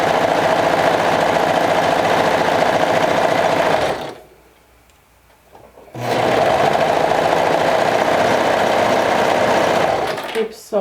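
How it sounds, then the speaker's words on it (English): A sewing machine stitching around a pocket runs with a fast, even mechanical whir, stops for about two seconds of near silence, then starts again at the same loud, close pace. "Keep sewing around your pocket"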